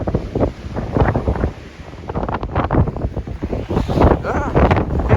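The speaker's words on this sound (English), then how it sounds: "It is quite windy in this extreme weather." Strong gusts from Storm Eunice roar and buffet the microphone without letup, a dense, loud rush that surges and eases in waves across the whole stretch.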